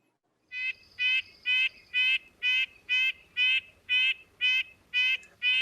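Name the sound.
red-breasted nuthatch song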